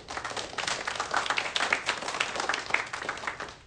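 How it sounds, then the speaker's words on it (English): A studio audience claps during a talk-show interview, giving a dense, steady burst of applause that carries on evenly for several seconds at moderate loudness. "People are clapping for Iran?"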